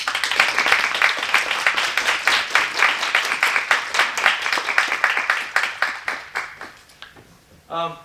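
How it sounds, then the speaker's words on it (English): Audience applause at a university English speech contest: a dense, steady burst of many hands clapping that gradually thins and fades, followed by a brief voice at the end. "Let's give one more round of applause to our speakers today."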